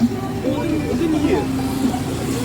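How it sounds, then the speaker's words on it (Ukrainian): Road traffic passing near the entrance at the Bukovel resort, a continuous low rumble of cars and engines underneath a person talking over it. "звук машин доволі такий гучний"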